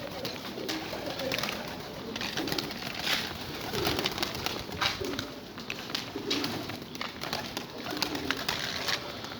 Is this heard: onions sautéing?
no